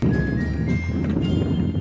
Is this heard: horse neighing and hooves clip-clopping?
yes